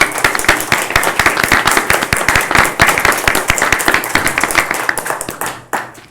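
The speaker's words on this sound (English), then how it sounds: "I think they all deserve a round of applause." Audience applause at a county board of commissioners meeting: dense, steady clapping from many hands, fairly close and loud, sustained for several seconds before tapering off at the end.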